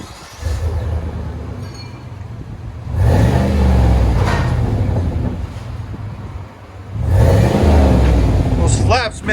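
Chevy Silverado Z71 RST with a 5.3L V8 and BORLA Touring exhaust revving, two loud swelling rumbles that rise and fall between quieter idle stretches, with people talking in between.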